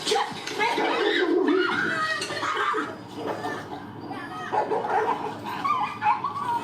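A dog yips and barks in short bursts amid agitated voices and commotion, with whimpering sounds mixed into the chaotic scene.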